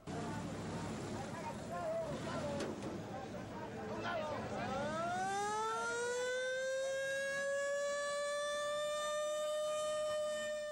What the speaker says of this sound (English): Mexico City was a city of sirens.